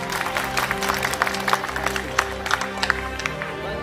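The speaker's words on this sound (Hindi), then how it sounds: "एक बार जोरदार तालियां अपने लिए बजा लीजिए आप" An audience at an Aam Aadmi Party political rally in Delhi applauds, steady crackling claps from a large crowd that keep going for several seconds, heard fairly close and loud.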